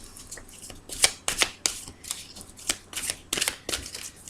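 Tarot cards being shuffled by hand for an energy reading, giving a quick series of close, crisp riffling and slapping bursts in an irregular rhythm, with no talking.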